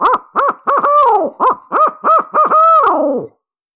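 A diaphragm turkey mouth call imitates an owl's laughing caterwaul: a loud, close run of about nine rhythmic hooting notes, the last ones wavering and drawn out, then silence.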